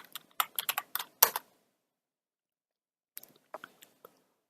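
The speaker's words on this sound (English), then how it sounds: "we're going to type in SoloLearn." Typing on a computer keyboard: a quick run of close keystrokes, a pause of about two seconds of silence, then a few sparser, softer taps, with no talking.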